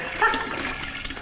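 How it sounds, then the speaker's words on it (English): Raspberry lemonade pours and splashes into a mixed drink, a brief, close liquid gush with no talk. "So let's come behind with some raspberry lemonade."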